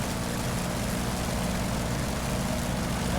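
An F4U Corsair's propeller engine roars at full power as the fighter accelerates down the runway in the DCS flight simulator, a steady, loud, unbroken drone with heavy low rumble.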